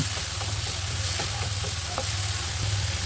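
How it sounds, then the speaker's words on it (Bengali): Cauliflower and other vegetables fry in hot ghee, giving a steady, close, even sizzle with faint clicks of stirring throughout. "ঘি গরম হলে সবজি ভেজে নিব। ফুলকপি নিচ্ছি।"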